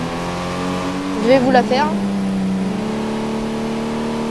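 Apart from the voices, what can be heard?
car engine accelerating in video game Real Driving Sim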